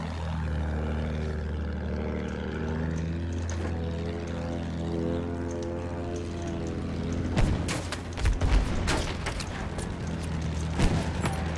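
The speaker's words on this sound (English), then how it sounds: "That's a plane." A propeller aircraft drones loudly overhead in the World War I shooter Battlefield 1, a steady harmonic engine hum joined midway by bursts of gunfire and explosions.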